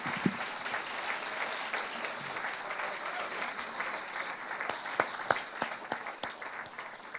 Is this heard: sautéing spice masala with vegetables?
no